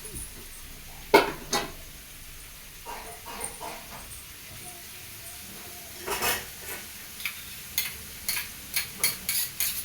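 Beans and field bean seeds frying in oil in a pan on a gas stove, with a soft steady sizzle broken by repeated scraping and clinking of a spoon stirring against the metal.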